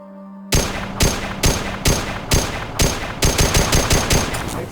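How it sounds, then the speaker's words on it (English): A weapon fires in the VR game Nirvana: Eventide during a training session: a steady series of loud, sharp gunshots in close succession, speeding into a rapid burst toward the end. "Fire your weapon until it is nearly empty."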